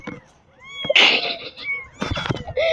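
Small kittens give several high, thin meows close by, some overlapping, along with rustling and a person talking in the background.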